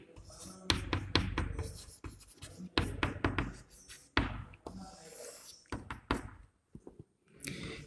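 A definition being handwritten on a board during a science lesson, with a busy run of tapping, scraping strokes and knocks that come in bursts and pauses, close and fairly loud, with no speech.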